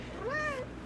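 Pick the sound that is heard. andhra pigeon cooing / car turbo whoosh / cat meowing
cat meowing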